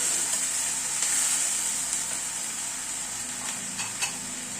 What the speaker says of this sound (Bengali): মশলাটাকে মিনিট খানেক একটু নাড়াচাড়া করে নিলাম।